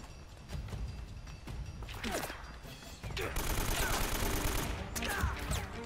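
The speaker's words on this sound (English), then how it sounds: "Can't even see him and they're shooting me." Gunfire in Uncharted: Drake's Fortune on PS4: bursts of rapid shots crackle through the whole stretch, growing denser and louder in the second half.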